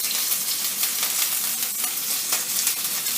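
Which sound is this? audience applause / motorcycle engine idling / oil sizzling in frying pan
oil sizzling in frying pan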